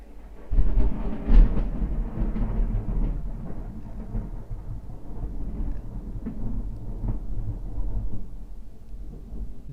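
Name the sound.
thunder in video game GTA III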